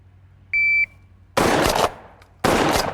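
Stoeger P3000 Defense pump shotgun fired after a shot timer beep: a short electronic tone, then two loud, close blasts about a second apart, each with a brief ringing tail.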